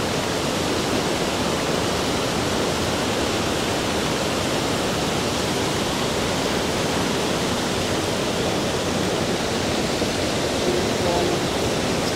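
A strongly flowing mountain stream, swollen after heavy rain, roars steadily and loudly throughout, a dense unbroken rush of water with no pauses.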